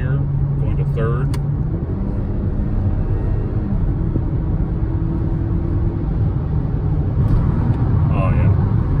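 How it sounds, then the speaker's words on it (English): A 2021 Kia Stinger engine drones steadily from inside the car as it downshifts from fourth to third gear, with a low continuous rumble and a slight shift in pitch. "So we're in fourth gear, going to third."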